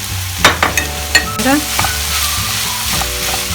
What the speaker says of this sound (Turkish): Bir tatlı kaşığı domates salçası, bir tatlı kaşığı biber salçasını ilave edelim.